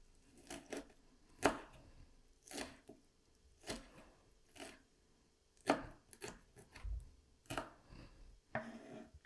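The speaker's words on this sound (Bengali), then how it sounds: "মরিচটাকে এইভাবে কাটবো" A knife chops four chili peppers, two red and two green, on a board for pakora, giving about a dozen sharp, close knocks at an uneven rhythm with quiet gaps between them. No voices.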